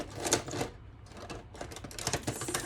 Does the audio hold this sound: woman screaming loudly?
no